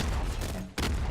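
Grenade rifle firing in Nuclear Throne, a loud burst of booming shots with a brief gap before another blast, no talking.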